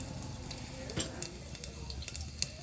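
Soft, steady sizzling of cumin seeds in hot oil, with small scattered crackles and pops over a constant frying hiss.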